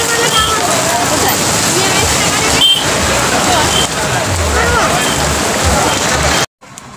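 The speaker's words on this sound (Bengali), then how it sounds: "দেখো প্রচুর বৃষ্টি হচ্ছে।" Heavy rain pours down in a steady, dense wash of noise, close and loud, cutting off abruptly near the end, with some speech mixed in.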